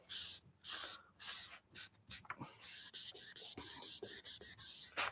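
A cloth rubbing excess grain filler off a wooden mini guitar kit body, a run of brisk scratchy wiping strokes in an uneven rhythm, close and fairly soft.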